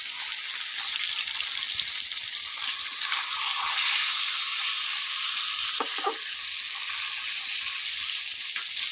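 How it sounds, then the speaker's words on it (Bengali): Fish frying in hot oil in a pan, home-caught pond fish for a curry, giving a steady close crackling sizzle throughout with a few brief louder pops and spatters near the middle; no one speaks. "মাছ ভাজার জন্য তেল দিয়ে দিচ্ছি। গরম হয়ে গেছে, এখন দিয়ে দেবো আমি মাছ।"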